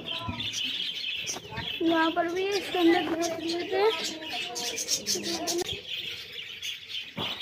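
High, thin chirps from baby birds in a nest hole sound repeatedly close by while a person talks over them.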